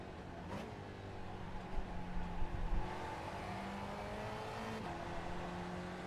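A Spec Racer Ford race car at Mid-Ohio drones steadily under throttle, its engine note rising in pitch as it accelerates, with a brief rougher patch partway through and a gear change near the end.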